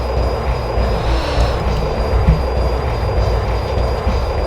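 A jet fighter engine roars at full throttle in the Fighters Anthology flight game, a loud, continuous rushing drone with a thin high whine running steadily across the whole stretch.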